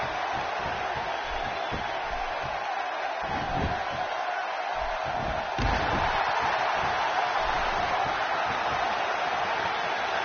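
Arena crowd in the WWE 2K16 video game during a John Cena match, a constant dense roar of cheering that lifts slightly midway, with a brief thud or slam.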